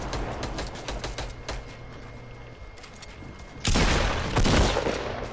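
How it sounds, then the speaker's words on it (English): Sniper rifle fire in Fortnite squad gameplay: scattered sharp cracks over a busy game backdrop, then a sudden loud blast near the midpoint that lingers with a noisy tail. "You're still taking sniper shots at me?"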